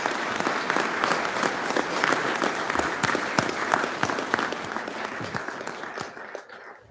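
A full audience applauds Cambridge student performers at a State of the City evening. The dense, continuous clapping is loud and sustained, with individual sharp claps popping through, and it eases off near the end.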